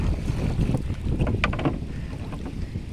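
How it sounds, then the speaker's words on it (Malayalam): A small boat moves through water in the paddy-field backwaters of Kuttanad during the monsoon, with sloshing splashes and rushing wind buffeting the microphone, close and fairly loud, with no one talking. "വള്ളം ഇങ്ങനെ വട്ടം കറങ്ങോളം കാരണം"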